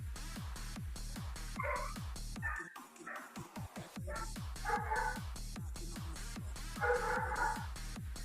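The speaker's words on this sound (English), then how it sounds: "I think maybe the puppy is mad" A puppy yips and barks in short bursts, a few high whimpery calls, over a loud rhythmic thumping beat in the background.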